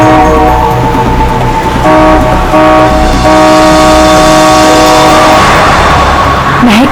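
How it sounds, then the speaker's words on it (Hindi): A car horn sounds in long sustained blasts on an empty road, very loud and close, droning almost without a break over traffic noise. "हॉर्न पे हॉर्न मार रहा है।"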